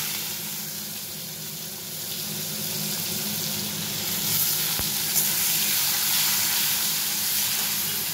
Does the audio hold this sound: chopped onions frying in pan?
yes